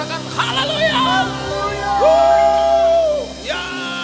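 Church congregation at an online anointing prayer service yells and whoops in praise, a mix of raised voices and sustained shouted tones over background music, loud and close.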